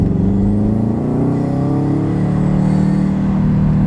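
A 2017 Subaru WRX STI accelerates steadily up to 40 mph, its engine droning loud and close with a rising harmonic whine over a constant low road rumble.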